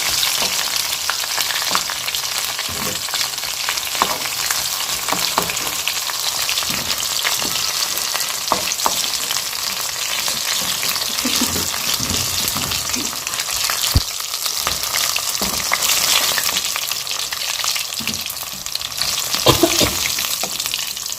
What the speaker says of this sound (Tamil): ஸோ எல்லாமே நல்லா வேகட்டும் இப்போ பார்த்தீங்கன்னா சிக்கன் எல்லாமே நல்லா வெந்துருச்சு